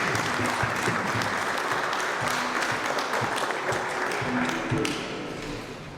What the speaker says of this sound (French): Un peu d'applaudissements s'il vous plaît.